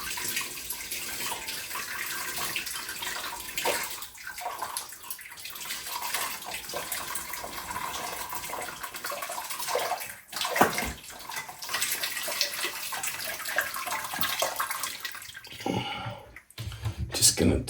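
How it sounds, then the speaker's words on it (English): Boiling water from a kettle splashes and trickles over raw duck skin for Peking duck, a continuous close pouring rush with small drips and clicks, faint talk underneath. "when you pour on the boiling water, it shrinks it back to the body"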